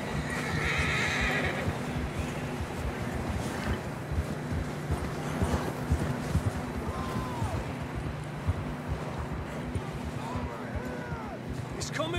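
Horses neigh and whinny with galloping hoofbeats in Red Dead Redemption 2, set against a constant bed of wind and movement, with shouted voices mixed in.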